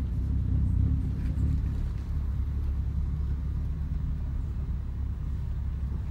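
Honda Civic running without an exhaust muffler on a paved road, its engine giving a steady, loud, deep low rumble that holds evenly throughout with no voices over it.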